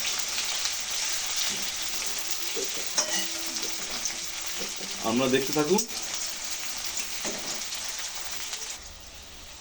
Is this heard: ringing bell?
no